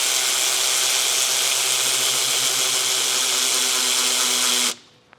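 A power tool runs steadily as it tightens the alternator bolt on a Subaru EJ25 engine during a WRX/STI rebuild. The loud, continuous whir stops abruptly near the end, leaving near silence.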